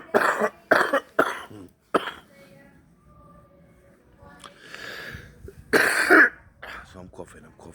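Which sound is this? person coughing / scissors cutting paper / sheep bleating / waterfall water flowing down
person coughing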